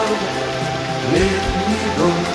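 Summer rain falls in a steady, dense patter that stays close and even throughout, with a faint melodic tone underneath.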